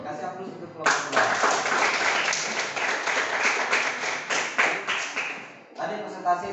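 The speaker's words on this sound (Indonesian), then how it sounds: "Kasih aplaus untuk kelompok 2." A classroom audience claps for a group presentation on Islamic marriage law, sustained applause lasting about five seconds, loud and close, with voices heard before and after it.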